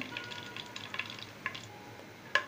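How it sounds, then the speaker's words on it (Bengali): Cardamom, cinnamon and bay leaves hit hot oil for a chicken and water taro curry, giving a faint, steady sizzle with a few scattered sharp pops, close by and with no talking. "তেলটা গরম হয়ে গেছে, তেলের ভিতরে আমি এলাচ, শাল, তেজপাতা"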